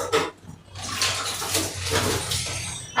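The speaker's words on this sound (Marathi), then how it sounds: "आता आपण गॅसला धुवून टाकायचं आहे" Water poured over a gas stove in a home kitchen to wash it, a running, splashing wash with brief breaks, close by and without talk.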